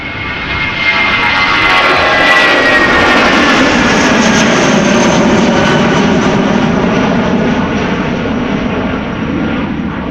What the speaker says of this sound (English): Speedbird going to London Gatwick, A320, flight 2825, 22-year-old airplane